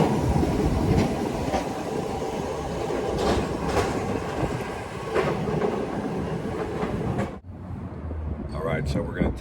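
The Ybor City streetcar passes on its rails in a continuous rumbling roll with faint rhythmic wheel clicks, loud and close, then drops off abruptly near the end, with voices faintly in the background.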